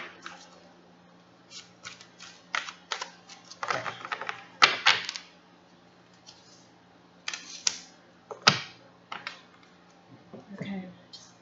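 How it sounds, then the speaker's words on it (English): Bursts of crisp, papery riffling and snapping as a deck of tarot cards is shuffled, in irregular clusters, close and distinct, with a quiet low hum between them. "Shuffle a couple more times"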